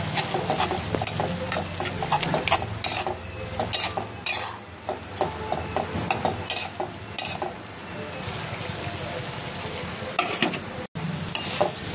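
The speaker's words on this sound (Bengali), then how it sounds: "মশলাটাকে খুব সুন্দরভাবে কষিয়ে নেব।" A spice paste of ground cumin, turmeric and coriander with salt and water, stirred and fried in a pan for a dried loitta fish bhuna, giving a steady sizzle with continual scraping stirs throughout.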